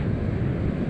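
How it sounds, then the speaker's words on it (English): Strong wind buffets the microphone on a beach in gale-force conditions beside a rough sea, a steady, dense roar with no let-up for the whole short moment and no voices. "Sun's out now, still windy"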